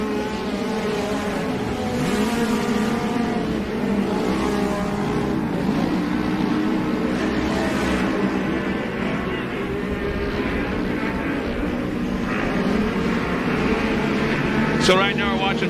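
Race cars roar continuously through a Great American Shortcourse race as the top three head into the Talladega left-hander, a steady loud engine drone with shifting pitch, under a commentator's talk.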